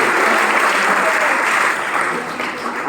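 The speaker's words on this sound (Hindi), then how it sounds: "और जोरदार तालियां पर हो जाए आदित्य कुमार के लिए।" Sustained, dense audience applause fills a student felicitation ceremony at a coaching centre, a steady loud wash of many hands clapping together for the overall topper.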